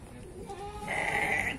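A sheep bleats at a small livestock market in Lampung, one wavering, moderately close call rising partway through, over crowd murmur and background chatter.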